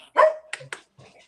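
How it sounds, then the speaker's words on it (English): A dog in a motorcycle shop gives one loud bark followed by a couple of shorter yips and a faint whimper, close by. "Dogs in the shop."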